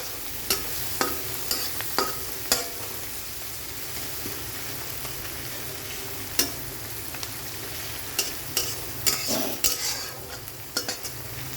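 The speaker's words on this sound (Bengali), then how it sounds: "মাখনের মধ্যে পেঁয়াজ পাতাগুলো ছেড়ে দিলাম।" Spring onion leaves frying in butter in a pan, a steady close sizzle broken by intermittent spatula scrapes and clicks throughout.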